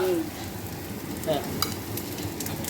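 Steady sizzling of goat brain frying in a pan, a continuous crackling hiss with a few brief clinks, fairly close and moderately loud.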